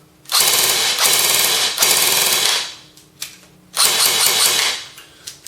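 Close, loud full-auto bursts from a G&P Magpul MOE PTS airsoft gun at about 900 rounds a minute: a rapid buzzing rattle in two long strings and one shorter string, with brief clicks between and no talking.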